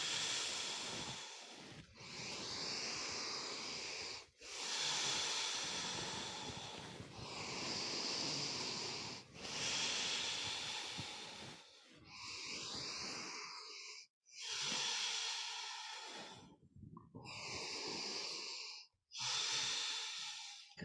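Slow, deep breaths during a yoga flow, each long inhale and exhale rushing audibly close up, repeating in a steady rhythm with brief pauses between breaths.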